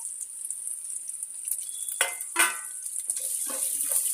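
Curry leaves, beans and carrot pieces fry in a pan with a steady high sizzle, broken by a few scraping stirs and clatters against the pan.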